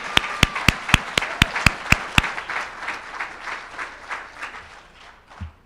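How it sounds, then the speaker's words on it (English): Audience applause at a Delaware Women's Hall of Fame induction, opening with several sharp, loud claps in steady rhythm before a fuller crowd clapping swells and gradually fades out. "Let's give her a round of applause."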